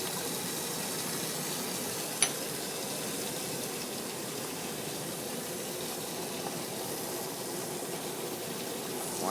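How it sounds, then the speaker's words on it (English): Vacuum filtration pulling liquid from crystals through filter paper in a lab, a faint, steady hissing rush of suction with one tiny clink. "Let that vacuum through."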